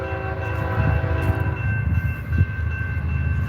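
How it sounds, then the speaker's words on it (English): Train drawing near, a loud steady rumble with sustained tonal whine and clanking bursts that swell and fade over a few seconds, with no voices. "So I automatically knew there was going to be a train coming."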